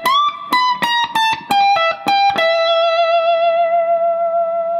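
A distorted electric guitar plays a solo lick: a string of short, sharp picked notes, then one long sustained bent note ringing out alone with effects, up close.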